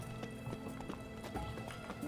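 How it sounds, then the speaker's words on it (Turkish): Galloping horse in The Witcher 3 game, quick repeated hoof clip-clops running steadily over a busy game soundscape with a faint whinny, fairly close and moderately loud, no talk. "Şimdi atı çağıracağım ama."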